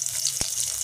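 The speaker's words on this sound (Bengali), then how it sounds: "ভেন্ডি ভাজা হবে।" A short burst of okra frying in oil, with a steady bright sizzle and a single dull knock near the middle.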